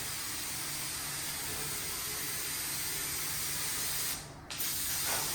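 A steady close hiss of an aerosol can spraying continuously onto a piano finish, briefly cut off near the end before resuming.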